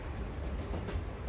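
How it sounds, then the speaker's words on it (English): Steady rumble of a subway train running along the rails, with a continuous low rolling drone and faint clatter, close and even throughout. "We're on a train that's been taken out of service."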